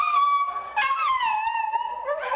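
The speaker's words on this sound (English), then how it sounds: "A shelter in Rogers is now caring for the surviving 75 dogs." Chihuahuas rescued from a house fire and kept at an animal shelter whimper and yip in high, wavering, howl-like cries that rise and fall close by, with no talk.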